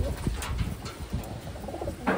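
Taiwan racing pigeons coo close by, soft, low, throaty murmurs repeating over a constant background rumble.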